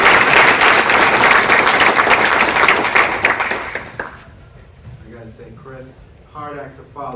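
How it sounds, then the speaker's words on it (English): Audience applause welcomes a speaker onto the stage at a healthcare awards celebration, loud sustained clapping that fades out after about four seconds, followed by someone speaking. "Please join me in a round of applause."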